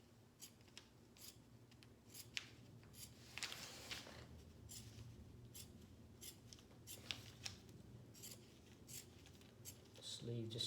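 Scissors snip through T-shirt fabric to cut out a sleeve, giving a string of short, fairly close crisp cuts and rustles, with a voice talking quietly now and then.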